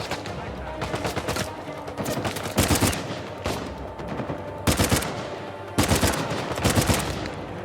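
Gunfire in the video game Uncharted 4: loud bursts of automatic fire and single shots in several volleys, with short gaps between them.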